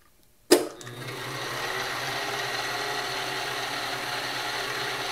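A fly cutter takes a cut in metal on a PM25MV milling machine at about 1200 RPM: a sharp onset as the tool engages, then a steady, even whirring hum that holds close and moderately loud.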